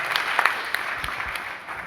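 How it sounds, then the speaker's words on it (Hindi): Audience at an AWPL direct-selling training talk clapping together, a moderately loud patter of hands with a few sharper claps standing out near the start, under a faint roomy background. "एक बार जोरदार ताली होनी चाहिए।"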